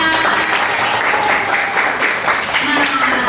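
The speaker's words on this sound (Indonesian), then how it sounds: "Oke, tepuk tangan kita semua." A classroom of students applauds, a dense, loud, continuous clatter of clapping with voices mixed in throughout.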